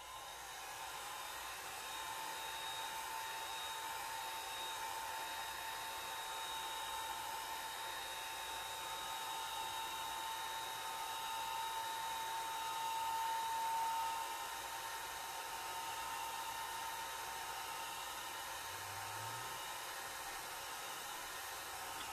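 A hair dryer dries wild plum alcohol ink on an art surface, giving a steady, unbroken blowing whir at an even level throughout, with no voices.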